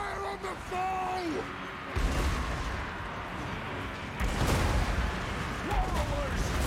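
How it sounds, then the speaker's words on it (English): Dwarf artillery firing in Total War: Warhammer 2 during a hard-difficulty dwarf campaign battle, two heavy booming volleys landing a couple of seconds apart over ongoing battlefield noise, with shouted unit voice lines heard alongside. "Fire on the foe!"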